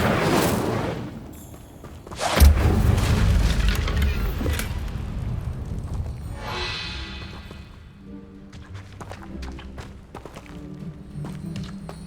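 In Hogwarts Legacy, the Incendio fire spell goes off with a sudden booming burst and a whooshing crackle of flame, followed by scattered thuds and cracks of combat that fade over several seconds.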